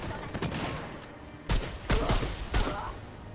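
Gunfire in the video game Remnant II comes as several sharp, loud shots spaced about half a second apart. Quieter game ambience and a player's voice sit underneath.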